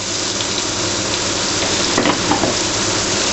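Carrots and onions sizzle and fry in a pan, a close, loud, continuous crackling hiss with a few brief stirring scrapes partway through, and no talking.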